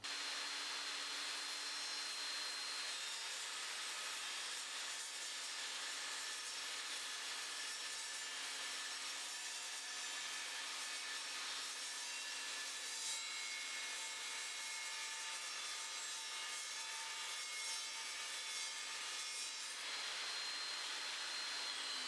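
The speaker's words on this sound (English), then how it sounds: "I'm now going to cut this piece of 6mm thick aluminium checker plate" A steady, loud table saw whine with a harsh grinding hiss runs continuously as the blade cuts through 6mm thick aluminium checker plate.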